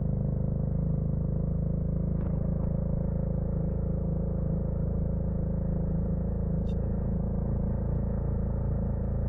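Motorcycle ride near the Burgos wind farm windmills in Ilocos, Philippines: a steady, close engine drone with wind rumble runs unbroken throughout, with a couple of faint clicks and no talking.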